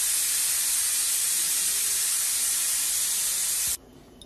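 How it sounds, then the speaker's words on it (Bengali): Leafy greens hit a wok holding a thin film of leftover oil and set off a loud, steady hiss of sizzling for nearly four seconds, then cut off abruptly to near silence. "ওই উনার ওই কড়াইটা এনে এটার মধ্যে শাক বসাবো"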